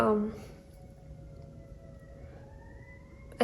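A siren wails faintly in the distance, its steady tone slowly bending, after a brief voice at the start.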